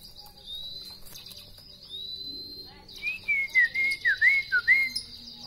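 Wild-caught Bahorok white-rumped shama (murai batu) singing, with rapid, sharply pitched whistled phrases rising and falling close by, over a steady high background tone.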